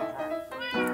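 A cat meowing inside a video game, one short, bright, tonal meow that rises at the end, close and clear.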